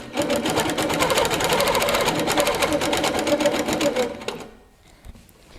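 A Handi Quilter Capri stationary longarm quilting machine stitches fast and evenly for about four seconds with a steady, close mechanical chatter, then stops and leaves near silence.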